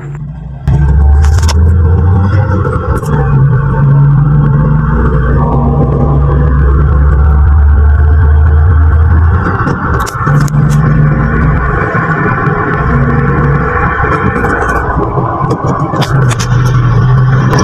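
A Toyota Vios on a road test after repair of misfiring, shaking and lost power rolls along with a steady low engine rumble and tire noise, some scraping and rattling, close and continuous throughout.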